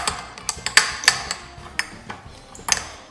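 A spoon mixes cinnamon into ice cream in a bowl, giving irregular light clinks and taps against the dish, close and crisp, with a few sharper knocks.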